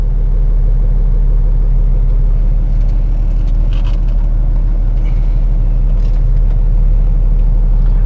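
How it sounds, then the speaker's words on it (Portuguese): A car engine drones loudly and steadily at low pitch, pulling away in second gear, with a constant close rumble and no clear revving. "Vou arrancar de segunda marcha aqui, ó."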